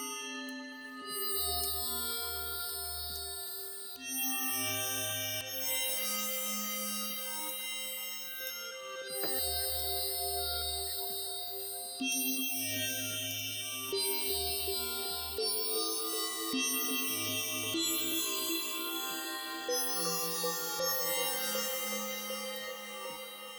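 A polyphonic FM synth built in Max for Live plays bright, sustained chords and bell-like notes through ping pong delay and reverb. The notes echo and bounce, and the dense tones ring on continuously without pause.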